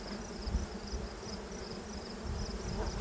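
Honey bees swarm around an open air hive, making a steady, fairly soft buzzing drone that holds throughout with no voices.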